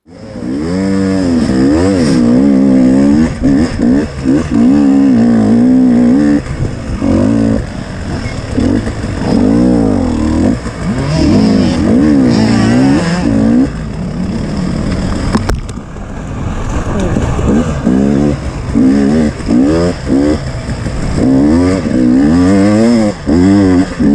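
A 2019 300 TPi two-stroke dirt bike running the 2021 Extreme map revs loud and close, with continuous rising and falling engine pitch through repeated throttle blips and accelerations.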